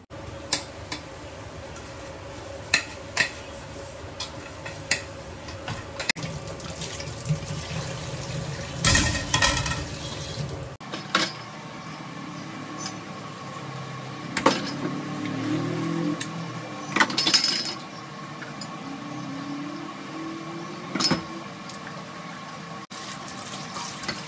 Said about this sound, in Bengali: এই যে চলো, এখন এই অল্প কটা বাসন আছে, এগুলোকে ধুয়ে রাখি।